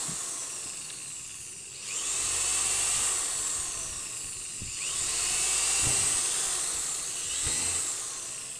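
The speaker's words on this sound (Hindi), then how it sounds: "अब मैं सारों में होल कर दूंगा" An electric drill whines as it bores holes in steel sheet for an LED light panel, in two or three sustained bursts with brief pauses between, fairly close and steady.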